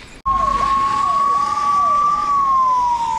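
An ambulance siren wails loud and close in a convoy with full escort on the road between Guwahati and Tawang, with a steady rising and falling tone that starts abruptly and holds with no talk.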